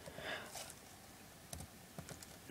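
Faint, quick tapping on a computer keyboard, a few scattered keystrokes over a quiet room background.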